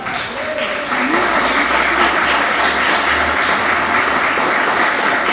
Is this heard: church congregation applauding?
yes